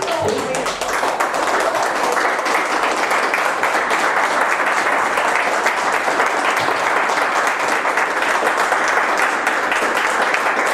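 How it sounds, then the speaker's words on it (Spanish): Loud, sustained audience applause after a conference talk, dense clapping from a large crowd that holds steady and strong throughout. "que de verdad sea un aplauso fuerte por esta gran ponencia."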